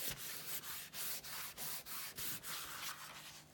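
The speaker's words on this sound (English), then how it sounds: "So either close your sketchbook or your card, rubbing firmly over the back" A hand rubs firmly over the back of a closed paper sketchbook, making about eight rhythmic, close scratchy strokes evenly spaced, fairly quiet with no talking.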